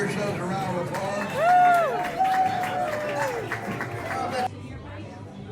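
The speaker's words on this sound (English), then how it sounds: "Give yourselves a round of applause." Audience applause and crowd chatter aboard a cruise ship excursion on the Mount Roberts tram in Juneau, Alaska, a steady wash of clapping mixed with a voice speaking and some cheering, ending abruptly.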